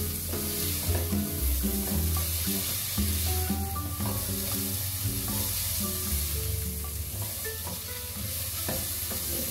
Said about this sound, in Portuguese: Dei uma refogada no bacon e já vou colocar a cebola.